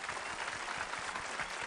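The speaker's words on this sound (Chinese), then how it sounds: "来，让我们为天下的父母鼓鼓掌吧" A studio audience at a family quiz show for children gives a short burst of steady clapping, fairly soft and with no one speaking over it.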